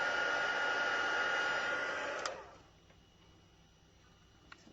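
A heat embossing tool blows hot air over a handmade leaf-themed card with a steady, close whooshing roar that lasts about two seconds, then cuts off abruptly, leaving a quiet room with a faint click or two.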